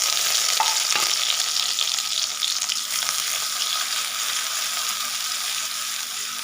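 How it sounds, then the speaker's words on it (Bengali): Large chopped onion dropped into hot oil in a pan, sizzling and frying for curry; a steady close crackle with faint stirring scrapes and small clinks, no voices. "এবার আমি এই তেলের মধ্যে দিয়ে দেব একটা বড় সাইজের কুচনো পেঁয়াজ"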